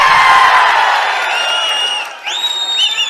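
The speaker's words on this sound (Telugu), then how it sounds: "అవునంటే గట్టిగా చప్పట్లు కూడా చెప్పండి అవునని" Outdoor crowd at a Telugu Desam Party political rally led by Chandrababu Naidu, cheering and whooping loudly with a dense wash of voices. The noise swells at the start, then eases as shouts rise above it.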